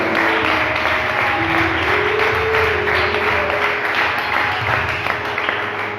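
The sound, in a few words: audience applause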